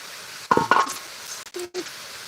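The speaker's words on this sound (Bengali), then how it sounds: "আমি করতেছি পাতাকপি ভাজি করতেছি।" Cabbage fries in a pan while a utensil stirs it, giving a few quick metallic clanks and scrapes over a faint sizzle.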